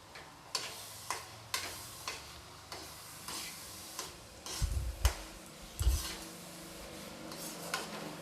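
Grated coconut being dry roasted and stirred in a pan, with a spatula tapping and scraping in an irregular rhythm of sharp ticks and a few heavier knocks. Close and fairly quiet, with no talking.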